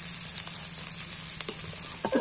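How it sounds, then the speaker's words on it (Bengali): Chopped onions frying in a pan with a steady close sizzle and crackle, a few faint stirring touches toward the end. "এই পেঁয়াজগুলো একটু ভাজা ভাজা যখন হবে"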